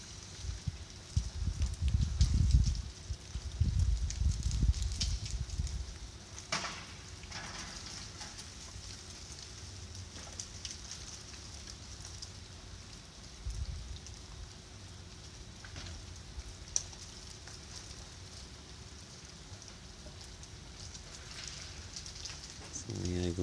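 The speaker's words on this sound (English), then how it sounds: "It's ice falling off the trees." Ice falls from trees in a front yard with a small stream nearby, sounding as a soft continuous patter with a few louder crunching impacts early on and sparse clicks, heard from a distance.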